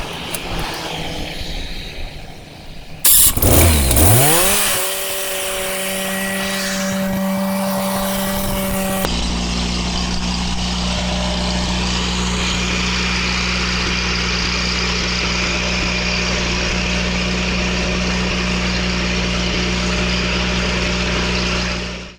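Engine-driven welding generator running steadily at close range, a loud constant drone with strong low harmonic hum; a brief revving surge near the start settles into an even idle that continues to the end.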